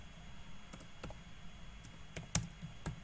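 Terminal command typed on a computer keyboard, a sparse sequence of soft, close key clicks at an uneven pace, the loudest near the end, in a quiet room.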